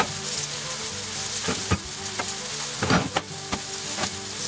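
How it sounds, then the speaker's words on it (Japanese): Meat-stuffed onion halves with cheese, floured meat side down, sizzle steadily in oil over medium heat in a frying pan, a continuous hiss broken by a few sharp crackles and pops. "焼き目がつくまで焼きます。"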